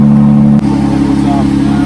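A Jeep engine turns over and settles into a loud, steady close-range idle with a low droning hum, a brief dip marking the catch partway through.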